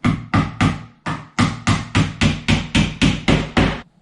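Hammer blows drive nails into wooden supports for a closet cabinet organizer, about a dozen sharp, loud, close knocks in a fairly even rhythm with brief pauses between strikes.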